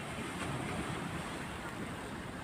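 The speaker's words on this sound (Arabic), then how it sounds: "الموج بيعلى" Rising sea waves wash against the Alexandria corniche in a continuous, fairly quiet surf rumble blended with wind buffeting, the wash swelling slightly without distinct breaks.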